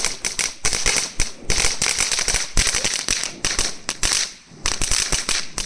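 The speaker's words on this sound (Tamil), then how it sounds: "இந்த வெடி தான் அது வெடிக்கிறது." Rapid, irregular bursts of firecrackers crack and pop loudly in quick succession during Chinese New Year celebrations in China, with a few short pauses between volleys.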